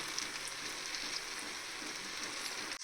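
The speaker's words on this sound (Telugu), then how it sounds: "ఫ్రెష్గా మిక్సీ పెట్టుకుని అల్లం వెల్లుల్లి పేస్ట్ అండి వేసుకుని వేయించుకుందాము" Ginger-garlic paste, freshly ground, frying in oil for a tuna fish pickle, giving a steady, fairly faint sizzle that holds evenly throughout with no voices.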